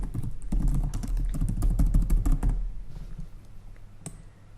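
Rapid, close typing on a computer keyboard, a dense run of key clicks for about two and a half seconds before it stops, with one more sharp click near the end.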